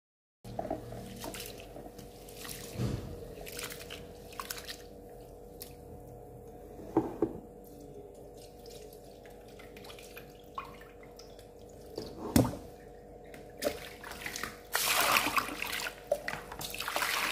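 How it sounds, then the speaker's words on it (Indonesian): Black glutinous rice swished and rinsed in water, with soft sloshing, drips and occasional splashy handling that grows busier toward the end. "Beras ketan hitam ini saya cuci beberapa kali"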